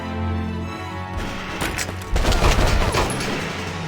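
Gunfire in the video game Valkyria Chronicles breaks out after a quieter start, with a loud burst of overlapping shots and crashes in the second half.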